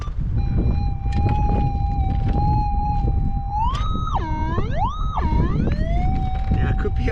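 Outdoors in windy conditions, a metal detector sweeps over a buried target on a wet gold patch and gives a steady electronic tone that then warbles and swoops up and down in pitch, over constant wind noise.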